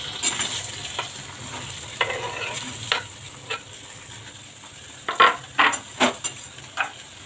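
Taro root tossed with spices in a pan, a soft sizzle running underneath while a spoon scrapes and stirs in irregular strokes, a few sharper clacks near the end.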